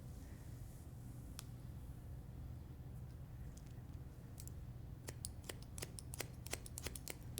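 Scissors point cutting a hair fringe: a few scattered quiet snips early on, then a quick run of crisp, close clicks near the end over a low room hum, no voices.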